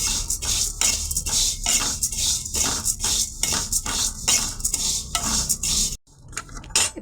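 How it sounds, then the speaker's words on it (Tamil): Flattened rice (aval) is stirred and roasted in a metal pan, with a spoon scraping steadily in a continuous rhythmic rattle. The sound is loud and close and stops abruptly near the end. "அவுளையும் நம்ம நல்லா வறுத்துக்கலாம்"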